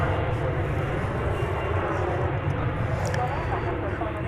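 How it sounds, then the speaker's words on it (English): An Airbus A321neo jet turns at the end of runway 18L at Dallas/Fort Worth airport, its steady engine roar droning continuously at a moderate distance with no break. "This Airbus A321 Neo making the turn at the top of runway 18 left."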